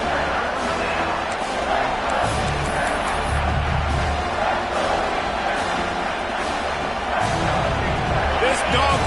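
A large American football stadium crowd roars steadily throughout, a dense wall of cheering noise on third down with a commentator's voice talking over it.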